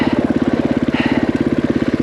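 A KTM 500EXC-F dirt bike's single-cylinder engine runs at a steady low speed, its rapid, even thumping pulses loud and close, with no voices.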